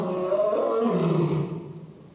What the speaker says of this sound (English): lions use their vocal cords and special skin in their throat to produce a roar that can be heard 8 kilometers away